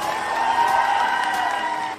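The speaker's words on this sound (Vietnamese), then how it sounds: "Một tràng vỗ tay cho Trấn Thành" Studio audience on a Vietnamese singing show applauds and cheers for judge Trấn Thành, a dense steady roar of clapping and voices held for about two seconds before tapering at the end.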